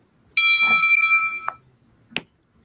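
A text message notification ding rings out as a bright tonal chime lasting about a second, followed by two short sharp pings, all clear and close over a quiet background during a party game.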